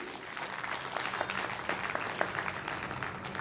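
An audience claps during a Jain religious discourse, a continuous, moderately distant patter of many hands at fairly even loudness throughout.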